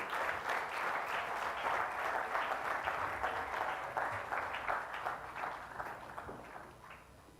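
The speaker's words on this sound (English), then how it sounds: "So with a resounding round of applause, please let's welcome Professor Dil." A live audience at a TEDx event at Nile University of Nigeria claps steadily in sustained applause, fairly loud and close, gradually thinning and fading toward the end.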